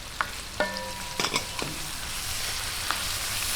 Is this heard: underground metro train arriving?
no